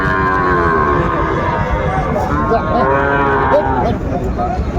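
Young Sahiwal bull calves on a farm in Chuadanga, Bangladesh moo repeatedly up close, long wavering bellows overlapping one another against a constant low hum.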